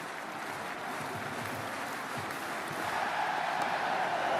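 Cricket stadium crowd at an IPL match between Mumbai Indians and Kolkata Knight Riders, a steady broad roar of cheering and chatter that swells slightly louder toward the end.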